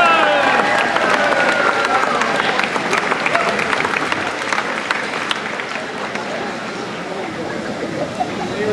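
Audience applause fills a concert hall at a Cleveland Pops Orchestra show in Elyria, Ohio: dense, steady clapping with some cheering, loud and close throughout, tapering slightly toward the end.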